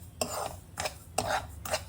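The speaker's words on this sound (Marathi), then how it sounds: "याच कढईमध्ये आपण बगर पण भाजून घेऊया" Barnyard millet (bhagar) being dry-roasted and stirred in a kadhai, with four separate scraping strokes spaced about half a second apart over a low background hum.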